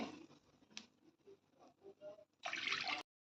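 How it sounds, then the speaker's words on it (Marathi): Two bowls of water are poured into a kadhai. Faint patters and drips lead into a short, loud splashing gush near the end, then silence. "दोन वाट्या पाणी ओतून घ्यायचं आहे कढाईत"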